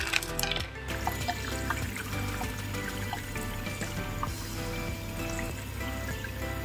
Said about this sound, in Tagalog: Yung tubig na ilalagay nyo guys, tamang-tama lang, hindi sobrang punong-puno.